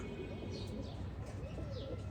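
Firozpuri pigeons, male breeders, coo softly in a steady low murmur with faint chirps above, close by and continuous throughout with no talk over them.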